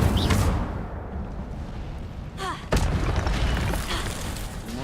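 In the Hogwarts Legacy video game, an Incendio fire spell goes off as a deep booming blast over a dense rumbling game soundscape, followed by a second sharp thump partway through.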